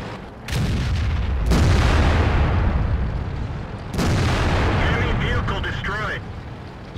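Heavy tank-gun blasts from an AMX Foch tank destroyer in World of Tanks: loud booming shots with long rumbling tails, one after another, with someone talking over them.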